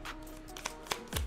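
Tarot cards shuffled by hand in a brief riffle, with a few soft flicks and a firmer slap of the deck near the end, close and fairly quiet.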